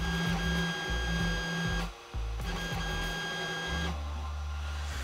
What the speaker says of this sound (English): on the downward motion, not so much on the up, because on up kind of makes the standard whine you expect from a 3D printer